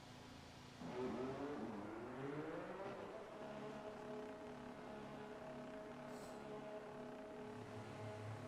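Blue race car in a racing video game heading out onto the track at the Canada round, its engine droning steadily and shifting up through gears, with a sustained whine running throughout.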